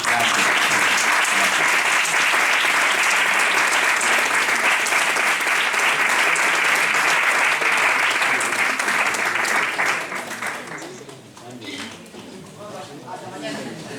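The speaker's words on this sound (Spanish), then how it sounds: "a nuestro querido director Matteo Pagliari con un fuerte aplauso, ¿les parece?" An audience at an orchestra concert gives a conductor sustained, dense applause that stays loud for about ten seconds, then thins and fades as clapping tapers off.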